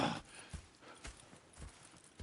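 Horse hooves clip-clop in a slow, even rhythm through a western setting in the video game Red Dead Redemption 2, quiet and fairly close, with no talking.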